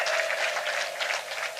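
Guests at a Rwandan wedding celebration make a dense, continuous wash of high, trilling ululation, mixed with clapping, loud and steady throughout.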